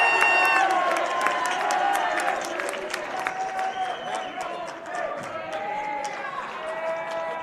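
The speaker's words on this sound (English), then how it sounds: "Calaveras crowd is upset" A high school varsity boys basketball crowd in a gym reacts with loud, sustained shouting and jeers after a no-call, along with scattered claps and squeaking sneakers while a commentator talks over it.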